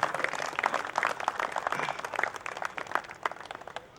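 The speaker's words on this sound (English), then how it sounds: "Please give a big round of applause." An audience at an Aligarh Muslim University ceremony claps steadily, a dense patter of many hands held at a moderate, fairly distant level for the whole stretch.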